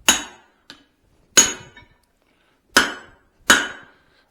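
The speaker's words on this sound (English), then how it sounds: "I'm going to start hammering the peen out" Hammer blows on hot steel while forging a Swedish-style cross peen, four sharp ringing strikes at uneven intervals with a few light taps between them, close and loud with no voices.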